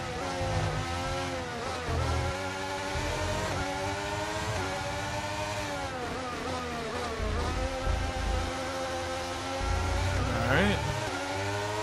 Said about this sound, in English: I do love the sound of these cars